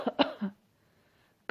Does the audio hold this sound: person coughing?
yes